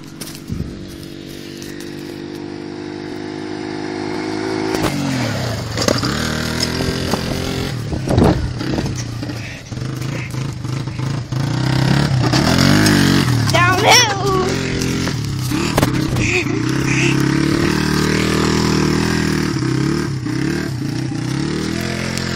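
A beginner rides a small motorcycle slowly around a muddy dirt track, its engine droning and revving steadily throughout, with people talking and exclaiming nearby over the noise.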